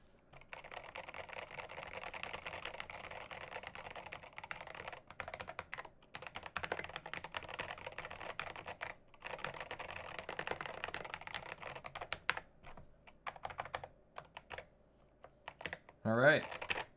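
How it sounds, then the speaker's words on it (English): Rebuilt Dolch Pac 60 mechanical keyboard fitted with cubic profile keycaps, typed on steadily at close range in dense, continuous clacking bursts with a few short pauses, fairly quiet overall. "I'm gonna say that this board sounds better than the NK65 with Telios and cubic profile keycaps"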